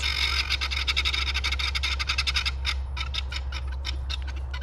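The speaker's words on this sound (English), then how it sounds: "we've got 19 guineas right here" A flock of about nineteen guinea fowl calls close by in rapid repeated harsh chattering bursts, the cries loud and overlapping over a low steady hum, thinning out toward the end.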